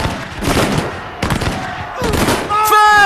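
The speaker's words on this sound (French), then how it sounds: "les premiers coups de feu retentissent." Gunfire volleys crackle in a re-enacted Napoleonic battle at Waterloo, sharp bursts of shots recurring across a dense, loud battle din, with a brass-like tone rising near the end.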